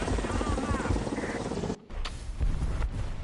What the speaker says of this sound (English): They just dominated us with helicopters.